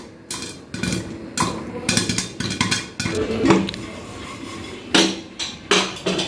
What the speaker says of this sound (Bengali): এটাতে ফুটছে পটপট করে, সেই আওয়াজটা বোঝা যাচ্ছে।